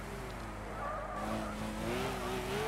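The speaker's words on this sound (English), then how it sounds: "This car loves to wheel spin." A race car in Gran Turismo 6 spins its wheels, giving a sustained tire squeal over a droning engine that rises slightly toward the end, loud and continuous with no talking.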